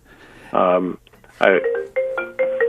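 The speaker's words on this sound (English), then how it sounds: "I'm getting a phone call on my iPad" An incoming call ringtone on an iPad plays as a sequence of steady electronic tones in short bursts, with a brief pause partway through, close and clear.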